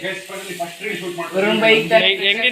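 Fish sizzles as it fries on a tawa in a home kitchen, with crackling that swells louder toward the end under a voice talking.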